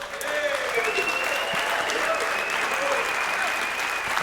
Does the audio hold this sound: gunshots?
no